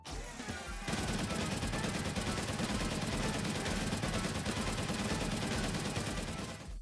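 Minigun tower skin in Tower Defense Simulator firing a continuous rapid burst of gunfire after a brief lead-in, loud and sustained with a dense rattling rhythm throughout.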